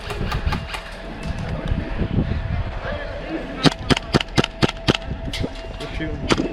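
Airsoft guns fire in an outdoor free-for-all game, with a rapid string of sharp, close pops in bursts over steady background noise and distant activity.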